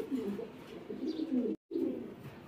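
A pair of racer pigeons cooing close by, soft low burbling coos running steadily with a brief break near the end.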